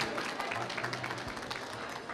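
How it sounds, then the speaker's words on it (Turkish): An audience at a craft competition and award ceremony applauds, a continuous wash of many hands clapping at a moderate distance, steady and even throughout. "Tebrik ediyoruz, alkışlıyoruz efendim"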